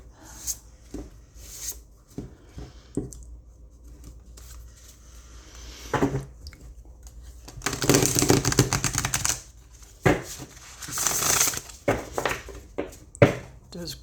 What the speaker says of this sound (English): All right, let's see how the shuffle is.